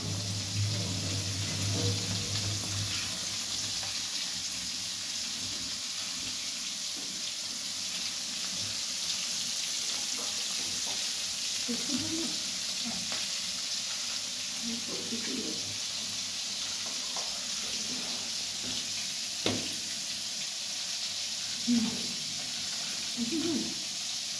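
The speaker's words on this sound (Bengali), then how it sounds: "তো বেগুনটা ভাজা চলছে, আর এখানে আমার মাছটা ভাজতে দিয়েছে।" Eggplant and fish frying in a pan give a steady, even hiss that runs throughout, with occasional soft clinks and faint background sounds.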